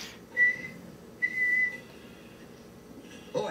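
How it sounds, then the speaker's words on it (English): A Fraggle Rock character whistles two sustained, steady high notes, each lasting under a second with a pause between, over quiet background. "All you have to do is whistle."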